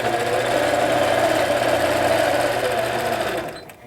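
A longarm quilting machine stitches a pantograph design on a quilt, its needle running in a fast, even, buzzing hum that holds steady close by before slowing and stopping at the end.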